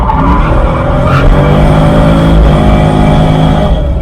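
A C6 Corvette drifting, its engine held at a loud steady roar while the tires skid and squeal continuously, close and unbroken throughout.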